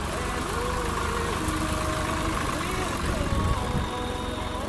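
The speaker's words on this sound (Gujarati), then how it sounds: "ભાઈ તો ટ્રેક્ટર લઈને આવી ગયા છે." A small tractor engine idles with a steady, close mid-range rumble and a slight knocking throb, while voices talk over it.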